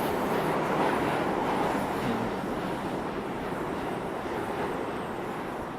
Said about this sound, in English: train passing underneath